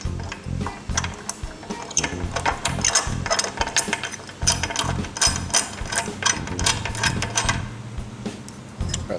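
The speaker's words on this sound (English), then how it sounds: "there's a bolt down in there it will take out to remove that trim tab" Ratcheting wrench clicks loosening a trim tab bolt on a Yamaha F250 outboard in a shop, rapid irregular mechanical ticks in bursts, close and fairly loud, with no talking.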